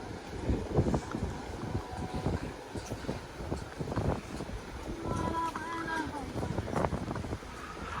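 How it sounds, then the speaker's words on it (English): A breeze buffets the microphone outdoors at a beach resort in Yucatán, giving a continuous gusting rumble with faint background voices and some distant tonal sounds. "Nice breeze."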